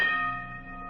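A boxing ring bell in a radio drama rings out once, loud and close, with its metallic tone fading slowly over a second.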